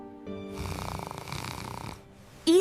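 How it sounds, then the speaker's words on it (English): One long, rasping snore is heard up close at moderate volume, with a short voice-like sound cutting in right at the end. "Now it is the snoring."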